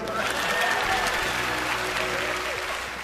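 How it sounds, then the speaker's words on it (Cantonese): Dense, continuous applause from a studio audience for a comedy variety show sketch, holding at a steady level throughout with a faint tone running beneath the clapping. "可唔可以俾少少掌聲咧？"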